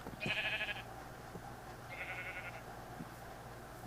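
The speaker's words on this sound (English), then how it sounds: "Do not jump into the cactus. No, come back here, sheep." Sheep in a Minecraft modpack game let out two short, fairly faint bleats a second or so apart, over a steady background of game ambience and soft clicks.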